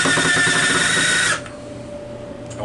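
Power drill driving exterior screws into wood in a workshop, a loud, steady whirring run of about a second and a half that stops abruptly, leaving quiet room noise.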